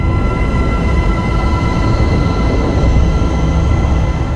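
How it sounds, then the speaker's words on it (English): Sonified sound waves from the early universe, pitched up into the audible range, form a dense, steady roar with a low rumble and faint sustained tones above it, continuous throughout. "What you're hearing now are those actual sounds, decoded by researchers and pitched up to something we humans can hear."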